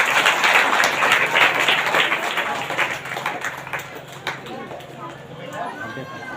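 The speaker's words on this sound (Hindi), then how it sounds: "इसलिए हम परमेश्वर को जोरदार ताली से धन्यवाद।" A church congregation gives loud, sustained applause at a worship service, the dense clapping filling the room and gradually thinning out toward the end.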